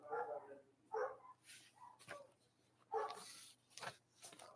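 A dog barks in scattered bursts, some sharp and some yelping, fairly close with pauses between.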